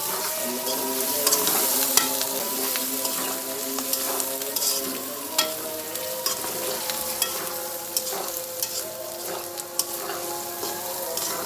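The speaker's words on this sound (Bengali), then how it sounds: "আজকে এই বড় শুটকিটা রান্না করলাম" Large sea-caught dried eel fish (shutki) frying in a pan, with a steady loud sizzle and repeated scraping and stirring taps throughout, no talking.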